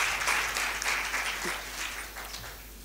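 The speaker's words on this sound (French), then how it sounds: "cet homme mérite qu'on l'applaudisse" An audience at a book signing for a medical novel applauds, a broad wash of steady clapping that is loud at first and then gradually eases off.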